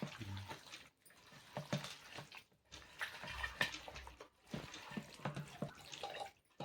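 Water added to a tamarind fish curry: a soft, faint splashing pour in uneven bursts with brief pauses between them, close but quiet, with no voices.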